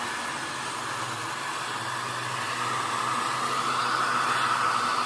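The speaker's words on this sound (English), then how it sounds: "So it's time to dry them perfectly. So I'm gonna use the hair dryer." A hair dryer blows steadily at close range while kittens are dried after a bath. The airflow hiss grows slightly louder toward the end and carries no speech.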